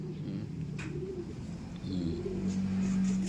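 Racing pigeons of the white-flight type cooing softly at close range, low murmuring coos repeating over a steady background hum, with a brief faint chirp early on.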